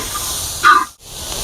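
Garlic goes into hot oil for a Kerala-style tuna head curry, alongside bird's eye chilies and green chilies. A steady soft frying hiss swells briefly into a brighter sizzle, then cuts out for a moment.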